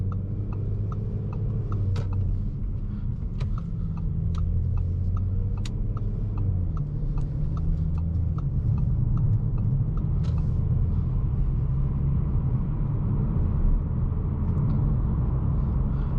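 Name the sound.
2022 Audi S4 exhaust while driving at low speed in cold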